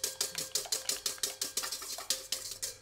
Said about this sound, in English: I'm still whisking.